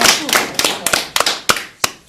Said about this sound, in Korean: 네, 박수.